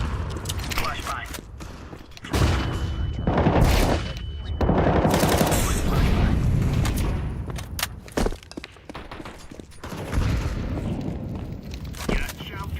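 Gunfire and a flashbang go off in a video game: dense, loud bursts of rapid shots and heavy booms come in waves, with short quieter gaps and some thuds between them.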